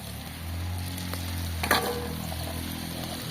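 Fish pieces frying in oil over a wood fire, a steady crackling sizzle with a brief louder spatter midway, no speech.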